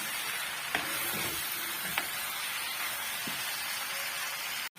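Potatoes and onions fry steadily in a pan for a potato gravy, with a continuous close sizzle, a few faint utensil taps, and no talk.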